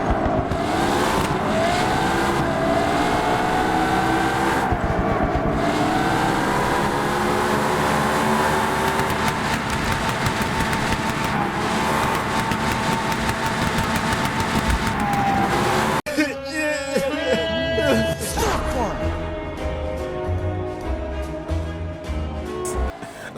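A LaFerrari's engine screams at sustained high revs near top speed in a racing video game, a loud continuous wail with shifting pitch, then a brief break into rougher revving and game sounds toward the end.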